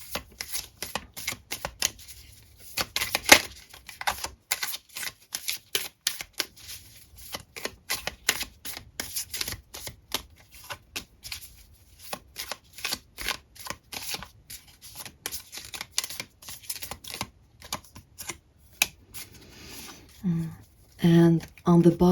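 A deck of tarot cards is drawn and shuffled close up, a long run of rapid papery flicks and riffles that thins out toward the end as a voice begins talking.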